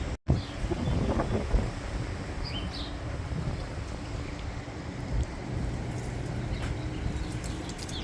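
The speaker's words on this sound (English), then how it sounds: "It's cold and windy." Strong, cold, dusty wind gusts outdoors in Old Town Albuquerque, making a constant roar that buffets the microphone, with faint distant background sounds and no speech.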